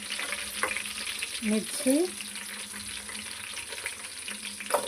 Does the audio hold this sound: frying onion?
yes